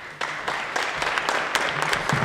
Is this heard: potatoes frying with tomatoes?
no